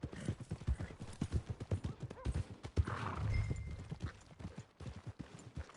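A horse's hooves clip-clop in a steady walking rhythm in the video game Red Dead Redemption 2, with faint background sounds and a brief snort midway.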